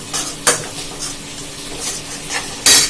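Spice masala sizzles in hot oil in a home kitchen pan, with a steady frying hiss broken by scraping stirs of a spoon against the metal, close and fairly loud with no talking.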